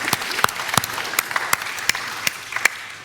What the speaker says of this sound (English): let's have a round of applause for everyone who's sitting on these rather hard chairs